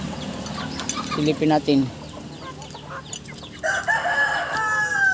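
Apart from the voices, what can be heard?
chickens and chicks clucking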